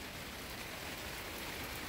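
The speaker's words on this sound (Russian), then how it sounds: "У нас дождь." Steady rain hiss fills the clip, a dense even patter with no gaps and no voices, moderately quiet throughout.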